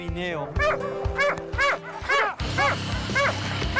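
Sled dogs in winter Yakutia barking and yelping in quick, excited bursts, several close, loud barks overlapping with whimpers and commotion.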